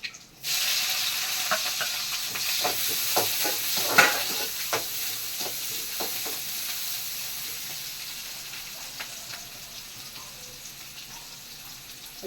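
Onion and green chili dropped into hot oil in a pan, a sudden loud sizzle that bursts in early and then fades gradually, with stirring clicks in the middle and no voices.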